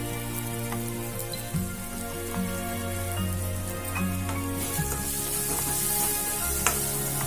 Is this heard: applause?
no